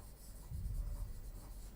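Teacher writing vocabulary words by hand during a lesson, a soft continuous rubbing scratch of pen or chalk lasting a couple of seconds, close and faint, with no talk over it.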